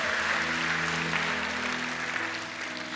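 Church congregation clapping together during a worship service, a dense, steady burst of many hands applauding continuously for a few seconds with no voices over it.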